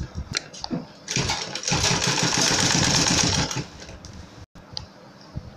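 A sewing machine top-stitches cord onto a fabric curtain tieback, running in a steady rapid whir for about two and a half seconds after a few short starts, then stopping with brief clicks.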